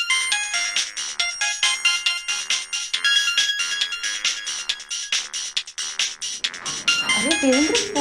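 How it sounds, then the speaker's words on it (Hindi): A loud, bright melodic phone ringtone repeats steadily for several seconds, with a brief voice breaking in near the end. "फोन आ रहा है किसी का"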